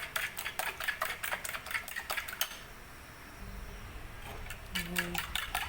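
A leche flan mixture is stirred by hand in a bowl, making repeated rhythmic scraping and clinking strokes that pause midway and then resume, close and moderately loud.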